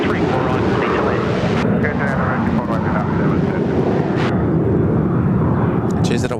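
Loud, broad roar of an airliner landing on runway 34 right at Sydney Airport, continuous and fairly close, with a voice talking over it.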